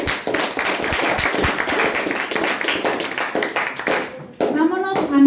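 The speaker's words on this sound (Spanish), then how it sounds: "Dale un fuerte aplauso al que vive en Señor" A church congregation applauding loudly, dense steady clapping from many hands that breaks off near the end, followed by a voice speaking.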